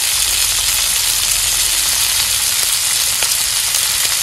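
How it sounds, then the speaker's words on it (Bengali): Spices for a boal catfish curry with tomato and new potatoes sizzle steadily in hot oil in a pan, a continuous close, loud frying hiss with faint stirring, no voices. "এখন মশলা আমি তেলের মধ্যে ভাজা নিয়ে মশলা কষানি হয়ে গেছে"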